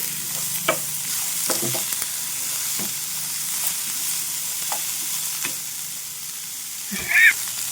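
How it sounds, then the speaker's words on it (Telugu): Chopped ridge gourd with onion and green chili fries in a pan for a Telugu-style curry, giving a steady soft sizzle under repeated scraping stirs of a spoon, ending with a louder clatter. "పోపులో వేసుకున్న తర్వాత చక్కగా అటు ఇటు మొత్తం ఉల్లిపాయ ముక్కలు పచ్చిమిరపకాయ ముక్కలు ఈ పొట్లకాయ ముక్కలు కూడా చక్కగా కలిపేసుకోవాలి"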